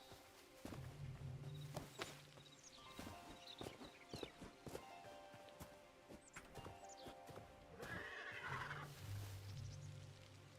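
Horse in the Hytale video game neighing in two distinct whinnies with scattered hoof clops and footsteps between them, fairly quiet and close, with no talking.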